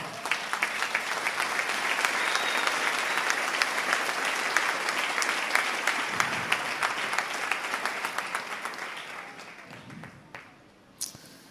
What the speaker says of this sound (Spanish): ¿Cuánto dan un fuerte aplauso al Rey?